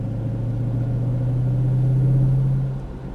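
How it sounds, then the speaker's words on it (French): Ford Mustang Shelby GT500 engine under light throttle, a steady low droning hum that holds close and loud for a few seconds, then eases off, with no talking. "On débraque, on accélère légèrement."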